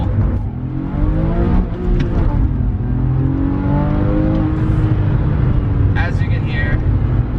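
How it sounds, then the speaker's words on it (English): A Porsche 997 911 flat-six engine revs and accelerates up through its range, a loud rising growl heard from inside the cabin, with a voice talking over it. "hopefully that flat 6 sounds fantastic"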